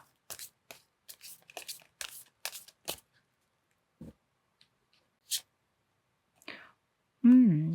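Oracle cards are shuffled and drawn by hand for a romance reading, with quick close card flicks and taps in bursts, then a pause and a few more, before a voice starts speaking at the end.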